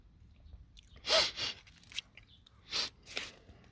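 Crunchy, fleshy Gabriel table grapes bitten and chewed up close, a few distinct crisp crunches in short bursts separated by quiet pauses.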